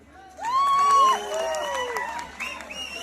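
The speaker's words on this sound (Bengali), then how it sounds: "আজকে সামনাসামনি দেখা হলো, তাই সবার আগে আপনাদের নিজেদের জন্য একটা হাততালি।" Audience at a Bengali comedy stage show breaking into applause and cheering, a burst of clapping and whoops rising suddenly and continuing steadily, with voices over the crowd.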